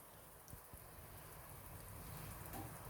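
Rain falls steadily outdoors during a Korean barbecue, a faint, even patter and hiss with a couple of soft low thumps near the start.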